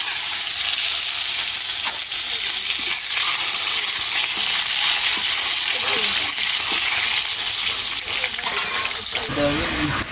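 Onions fried in a pan for egg curry give a loud, dense, hissing sizzle that fills the whole stretch, with a few faint clinks and a voice talking over it.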